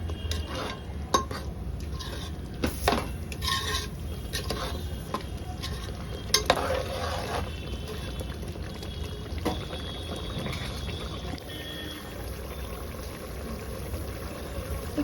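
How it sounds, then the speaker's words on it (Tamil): Cooked rice is tipped into prawn biryani masala in a pan and gently stirred, giving soft scraping and clinking spoon strokes over a low background hiss, fairly quiet and close. "இப்போ இது கூட நம்ம வேக வச்ச அரிசியை சேர்த்துக்கலாம்."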